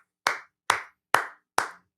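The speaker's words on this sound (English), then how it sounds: "Round of applause for the boys" Crisp, close hand claps, five of them at an even, unhurried pace, sounding like a single person applauding, with no voices.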